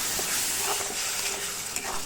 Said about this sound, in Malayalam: എന്നിട്ട് നന്നായി ഇളക്കുക.